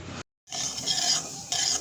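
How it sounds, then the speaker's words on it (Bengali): Cumin seeds fry in a pan under steady stirring, a bright continuous scraping hiss broken by one short silent gap, with no voices. "জিরা ভাজতেছি জিরা ভাজা নাই এই যে জিরা ভাজতেছি"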